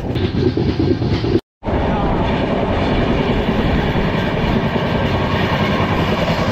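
The Kantabanji Ispat Express runs at about 103 km/h on the rails between Howrah and Ghatsila, with a loud, continuous rumble and rhythmic clatter of wheels that cuts out for a moment partway through.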